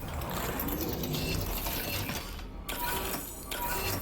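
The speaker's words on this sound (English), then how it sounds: "Man, them some satisfying noises from this printer." A printer machine in the virtual-reality game Half-Life: Alyx clicks and whirs with ratcheting, gear-like mechanical noises, fairly quiet and continuous, with a couple of brief sharp clacks partway through.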